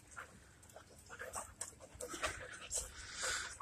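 Puppies in a kennel yard pant quickly and whimper faintly while a person talks nearby, the breathing steady and close.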